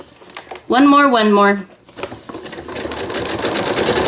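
A sewing machine stitching a postcard whirs briefly in rapid mechanical bursts, followed by a person speaking and soft handling noises nearby.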